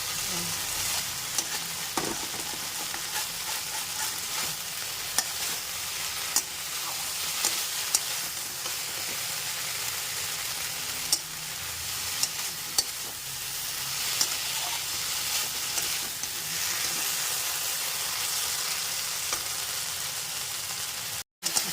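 Okra coated with poppy seeds, with a green chilli or two, fries in a pan, a steady close sizzle broken by scraping stirs and spatula knocks throughout.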